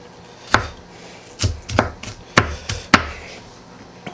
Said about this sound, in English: just get them good and chopped up here